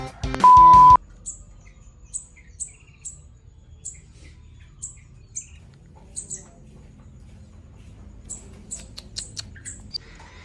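Small caged prinia songbirds set out in the sun at home give short, sharp chirps in scattered bursts. The calls come at fairly regular intervals over a low outdoor background, with one louder tone near the start.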